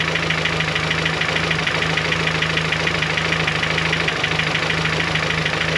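A boosted BMW G23 sits at cold idle, its engine droning steadily and close with a faint, fast ticking running underneath the hum.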